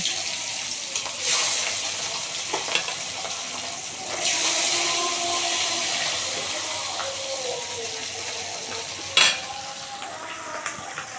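Oil sizzles and hisses steadily as pabda fish fries in a pan, with a louder burst of spitting near the end and faint utensil clinks.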